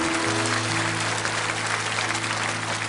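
Church congregation applauding newly baptized members during a worship service, a dense steady wash of clapping with sustained organ or keyboard tones held underneath throughout.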